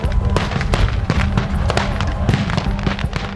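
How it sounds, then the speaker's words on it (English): Fireworks set off by demonstrators facing gendarmes at the Sainte-Soline reservoir protest: rapid crackling bursts and pops, loud and dense, over a rumbling crowd din. "Demonstrators responded with fireworks."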